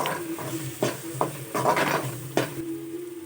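Masala for fish kulambu being sautéed in a pan: soft sizzling beneath several sharp metallic clanks and scrapes of a spoon against the pan, spaced irregularly and close up, with no talking.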